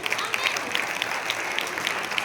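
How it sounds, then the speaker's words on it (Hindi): A church congregation at a spiritual revival meeting claps loudly together, a dense burst of hand claps with sharp individual hits standing out, sustained briefly at steady volume. "जोरदार ताली बजाए उसके लिए।"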